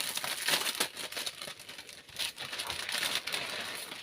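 Sheets of rice paper being handled and crinkled, giving a dry, papery rustle with repeated soft crackling bursts that carry on steadily throughout, close and fairly quiet, with no one talking.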